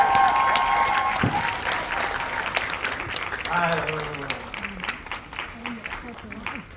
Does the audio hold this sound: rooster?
no